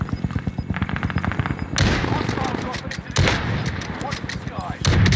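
Rifle fire from a Kar98 in the Warzone video game cracks out in sharp, loud shots amid other rapid gunfire and game sounds, with a rhythmic ticking running beneath.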